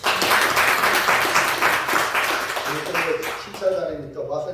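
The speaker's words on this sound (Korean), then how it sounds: "우리 격려의 박수 합시다" Church congregation clapping in encouragement during a worship service, a steady wash of hands under and around someone speaking, trailing off as his voice continues.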